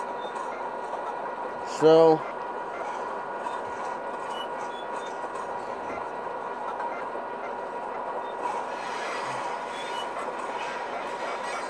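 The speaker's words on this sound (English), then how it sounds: "We got it up to 97 miles per hour. Almost 98 miles per hour on this route." Fan-made Amtrak Greenfield Zephyr train running at about 97 mph, a steady broad rumble of rail and engine noise throughout, with a brief loud tonal horn-like burst near the start and a voice speaking briefly.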